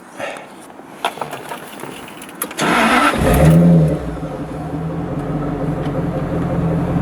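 A supercharged 4.0-litre Jaguar V8 from an XJR, fitted in a 1966 Jaguar S-Type, sits quiet, then cranks and fires. It flares briefly and settles into a steady, rumbling idle close by, with no talk.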